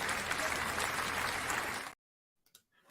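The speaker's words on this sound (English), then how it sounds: "Clap it up for Deacon Dave." Dense audience applause for Deacon Dave during a live stream, steady and close for about two seconds, then cutting off abruptly into near silence with a couple of faint stray sounds.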